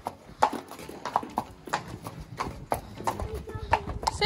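Hooves of a horse ridden without a saddle, galloping at a riding stable, pound in a quick, regular rhythm close by while a rider talks over the hoofbeats.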